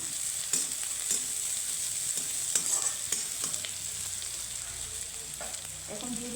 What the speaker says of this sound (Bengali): এখন আমি দিয়ে দিব কিছুটা রসুন কুচি